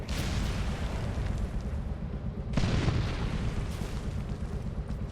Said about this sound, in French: Grenade à droite.